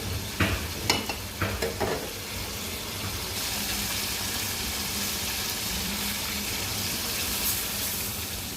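Hilsa fish curry with brinjal and potato frying down in oil until the oil separates, giving a steady close sizzle and bubbling hiss, with a few sharp stirring scrapes against the pan near the start.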